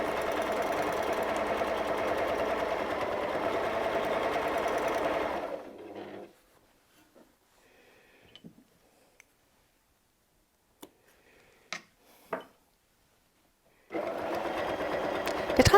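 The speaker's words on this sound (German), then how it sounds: "An meiner Maschine habe ich das offene Quiltfüßchen angebracht." A domestic sewing machine runs fast and steady for several seconds during free-motion quilting with an open quilting foot, then stops, leaving quiet handling clicks before the motor starts up again.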